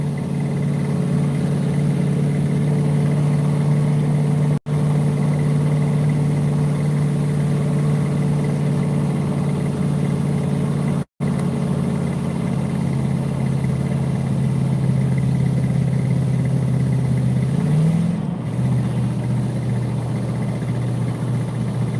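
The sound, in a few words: dying vehicle engine running during live stream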